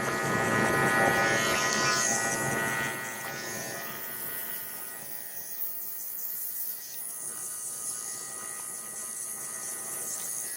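An electric hair clipper buzzes steadily close by while cutting a drop fade with the left side of the blade. The whine is loudest at first and then continues at a lower, even level.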